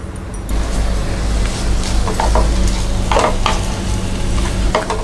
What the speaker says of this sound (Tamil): இதை வந்து நம்ம நல்லா வதக்கிக்கலாம்.